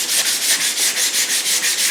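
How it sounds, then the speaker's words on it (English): Sandpaper rubbed by hand along the hull seam of an RC submarine model, rapid even back-and-forth scratchy strokes, about eight per second, close and loud with no talk. "I can just take some sandpaper and just hand sand"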